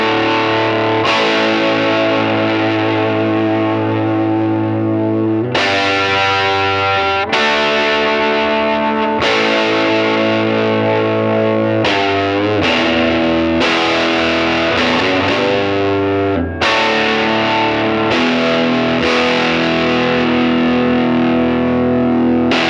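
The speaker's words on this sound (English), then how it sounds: "we're going to give it a shot, straight in, crank it up, see how that P90 sounds" A 1958 Gibson Les Paul Jr with a P90 pickup plays straight into a cranked 1955 Gibson GA-20 amp, giving loud, gritty overdriven chords and riffs that continue steadily with sharp chord changes.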